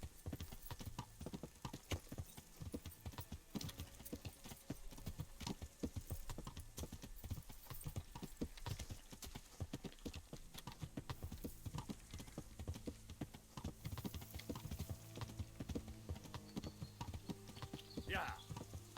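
Horse hooves clip-clopping in the video game Kingdom Come: Deliverance, a fast, steady run of close hoofbeats lasting throughout, with someone talking faintly over it at times.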